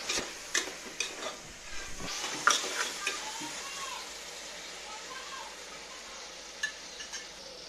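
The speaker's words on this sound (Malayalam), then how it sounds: "ഇങ്ങനെ മിളക്കി കൊടുക്കുക." Spices stirred as they fry in a pan for Kerala-style kappa beef, a steady close sizzle broken by repeated scraping stirs, with someone talking over it.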